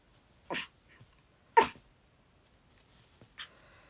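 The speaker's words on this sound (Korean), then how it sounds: "크림이 자꾸 짖는데요" A dog gives three short, sharp barks indoors, close by and spaced about a second apart, with quiet in between and no talking.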